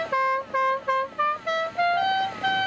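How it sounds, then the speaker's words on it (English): A loud air horn on a motorcycle blares the melody of Dixie in about eight short and long musical toots, rising in pitch, close and clear with no talking. "an air horn that plays Dixie"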